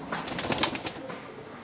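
Pigeons in a loft cooing softly while being fed a grain mix of popcorn, maize, chickpeas, green peas, safflower and wheat, with a steady low murmur of calls and faint fluttering.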